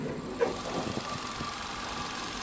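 A 2020 Skoda Rapid Monte Carlo edition with a 1.6 TSI turbocharged petrol engine idles with the bonnet open, a steady low mechanical hum with a faint click early on.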